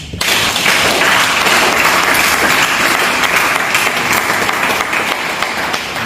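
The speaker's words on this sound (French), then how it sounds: "il ne nous reste plus qu'à adopter par acclamation." Loud, dense applause from a general assembly of a Congolese federation adopting a measure by acclamation, filling the room steadily for about six seconds with no speech over it.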